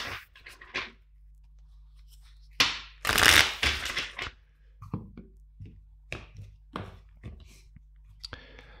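Tarot cards being shuffled in short crisp bursts, with a louder riffling flurry in the middle and scattered taps around it, fairly close.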